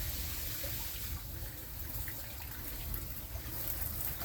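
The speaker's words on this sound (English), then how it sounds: "super quick watering time" Tap water pours in a steady, continuous stream to water squash and winter melon seedlings in a garden, a constant rushing hiss heard up close with no voices.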